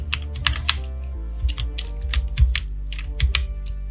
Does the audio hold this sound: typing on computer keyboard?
yes